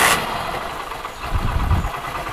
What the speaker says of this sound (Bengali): চাবি অন করে নি, স্টার্ট দিচ্ছি, তাই ভাবি এক কিকে স্টার্ট হয়ে যায়